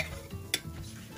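Gnocchi being stirred in butter in a pan: a soft, low sizzle with a single sharp utensil clink partway through, brief and close.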